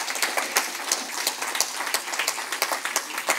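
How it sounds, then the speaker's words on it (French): Audience applause for a team at a regional presentation event, a moderately sized crowd clapping with distinct individual claps audible in a lively, uneven rhythm, at moderate level. "un tonnerre d'applaudissements, s'il vous plaît"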